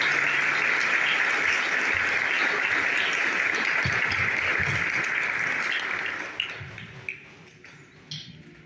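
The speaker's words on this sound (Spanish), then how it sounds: "Un fuerte aplauso a nuestros muchachos que nos ayudan." Congregation applauding the young helpers during a Catholic Mass in a parish church, a loud sustained burst of clapping that thins into a few scattered claps as it dies away.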